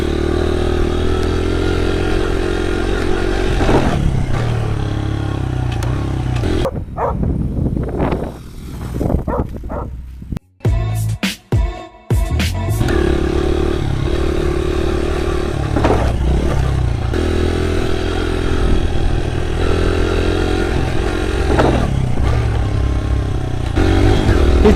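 A pit bike ridden hard in a high fourth gear, its engine droning loud and close, briefly cutting out and sputtering midway before roaring back to a sustained high-revving run.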